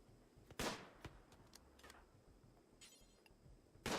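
Gunfire in the RimWorld colony game: a few sharp, scattered shots popping at irregular intervals, with a loud burst near the start and another at the end, separated by quieter crackles.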